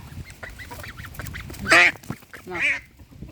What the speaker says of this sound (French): Pour l'instant, voilà, encore le canard.